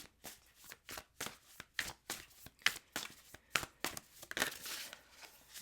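Tarot cards shuffled by hand in quick riffling bursts, a rapid series of crisp papery flutters at close range with short gaps between them.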